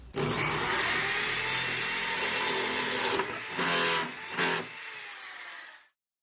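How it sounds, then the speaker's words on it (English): A large drill fitted with a 1/2 inch paddle bit bores up through plywood from below during model railroad work. A steady, loud grinding whine holds for several seconds, then dips and surges twice before cutting off. "Then I use my big drill with a 1/2 inch paddle bit to drill the hole up through the plywood from below."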